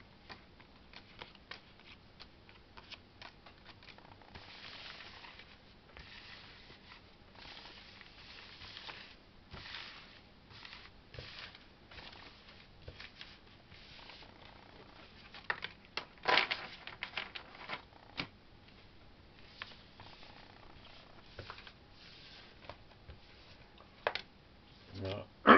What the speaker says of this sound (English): Using the board as a shuffle space.